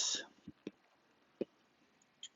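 Several faint, sparse clicks of keys being pressed on a calculator while numbers are typed in, spaced irregularly with short pauses, close and quiet with no talking.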